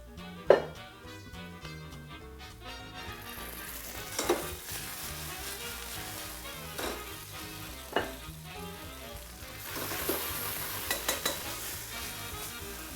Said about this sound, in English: Cook the garlic a little bit.